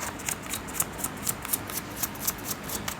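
Tarot cards being shuffled to draw a clarifier card, a close, steady run of soft riffling flutters and slaps repeating at a quick, even rhythm.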